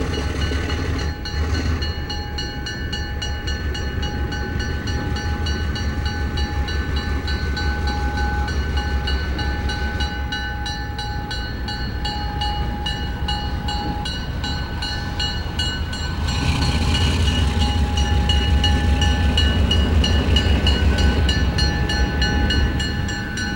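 The Chaleur passenger train rolls steadily along the rails near Gaspé, a continuous loud rumble with rhythmic wheel clatter and a sustained whine, growing slightly louder toward the end.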